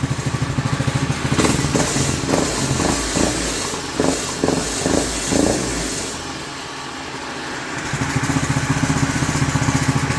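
A small engine runs steadily at idle with a low, even chugging, briefly fading and surging before settling back into its rhythm.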